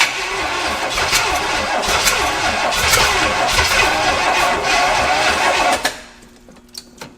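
A seized Pontiac engine, barn-stored for 48 years, cranks loudly and steadily for about six seconds with a brief catch, then the starter cuts off, leaving faint clicks and a low residual hum.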